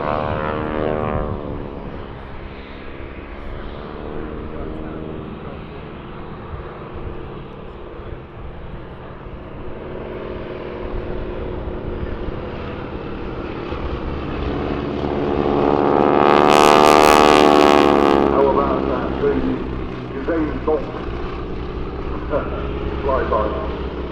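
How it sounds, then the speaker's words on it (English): Propeller aircraft, a Stearman or Harvard, flying at the Farnborough air show: a continuous droning engine and propeller roar that rises and passes near the middle, under steady commentary. "the raft of a Stearman, or indeed a harvard getting airborne, is the wing tips, the tips of the propellers going supersonic"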